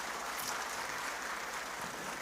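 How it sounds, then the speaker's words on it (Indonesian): Audience applause at an LDII gathering in Banyumas, a dense continuous wash of many people clapping, faint and distant, with no distinct individual claps standing out. "Kita beri tepuk tangan untuk mereka."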